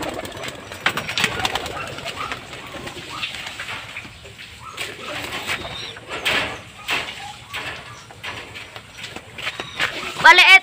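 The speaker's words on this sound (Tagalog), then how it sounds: "Kunin ko lang mga kalapatids yung inakay ni Abo" Pigeons coo and call around a loft as a pigeon chick is fitted with a leg ring, soft repeated cooing and rustling close by, with a person talking over them throughout.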